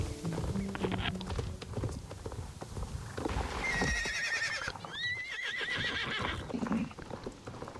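Horse neighs ring out in Star Stable Online, each whinny rising then falling, over steady clip-clop hoofbeats and a busy game soundscape with other background sounds.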